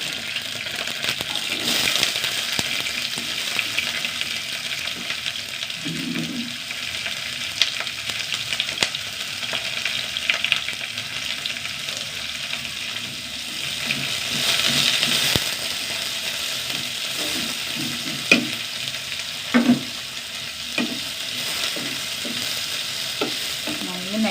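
Curry leaves, dried red chillies and a large onion fry in a pan, a continuous close sizzle broken by scraping and clattering stirring strokes, no voices.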